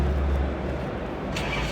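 A racy classic car's engine revs at an indoor car show, a close, loud, rumbling idle that swells briefly as the throttle is blipped near the end.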